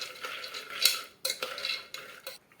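Spoon stirring peanuts with water and salt inside a pressure cooker, giving a few scraping, clinking strokes against the metal pot at close range with short pauses between them, and no voice.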